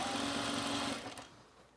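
A sewing machine runs at a steady, fast whir while a cropped jacket is being sewn, then slows and stops, close and fairly loud with no talk.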